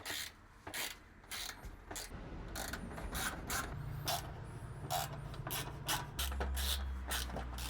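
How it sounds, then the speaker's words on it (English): Screws being backed out inside an old Bigfoot camper's kitchen, giving repeated short ratcheting clicks in bursts over a low steady hum, fairly close and moderately loud with no voices. "There's 4 screws that we've got to remove in here."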